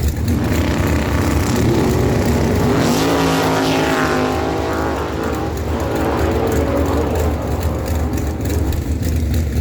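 A Ford Mustang and a dragster launch side by side down a drag strip, a loud continuous engine roar with a rising whine sweeping up mid-run, close and unbroken with no voices.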